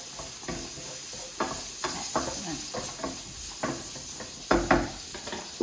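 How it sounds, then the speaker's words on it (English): Pancetta sizzles in a hot pan under a steady hiss, while a utensil stirs it with several soft scraping and clattering strokes, close up. "let's just give this pancetta a little stir"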